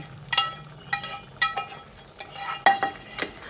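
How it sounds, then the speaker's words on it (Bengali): A spoon stirs thick red lentil dal mixed with fried onion in a pot, giving a run of sharp scraping clinks at irregular intervals over a faint simmer, with no talk. "এবার ভাজা পেঁয়াজটা দিয়ে সব কিছুকে আবারও ভালো করে মিশিয়ে নিচ্ছি"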